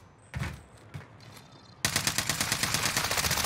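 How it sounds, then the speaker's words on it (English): Gunfire aimed at the player in Call of Duty on Rebirth Island: a couple of shots early on, then a sustained, loud, rapid automatic burst that continues to the end. "I'm getting shot."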